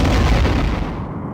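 A starship torpedo launch in Star Trek: A Final Unity roars as a single loud, dense blast that fills the short moment and fades slightly at the end, with no voices over it.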